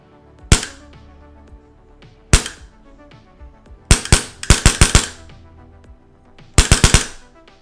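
Polarstar Kythera airsoft gun running on compressed air fires loud, sharp pneumatic cracks close up: single shots, then quick bursts of four to five and three rounds, with no voices.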